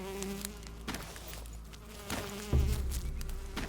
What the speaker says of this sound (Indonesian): Oh, ada lalat sih.